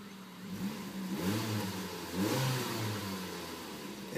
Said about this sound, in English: It definitely sounds like the old Focus engine.